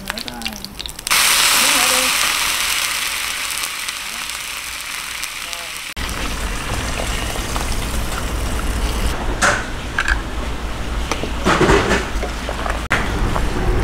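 Annatto seeds fry in hot oil in a home kitchen while cooking bún riêu, giving a steady, loud sizzling hiss that runs continuously through the clip, with faint clatter and background voices underneath.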